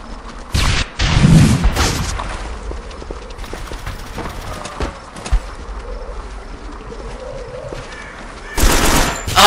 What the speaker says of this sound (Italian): Oddio, c'è qualcuno che spara.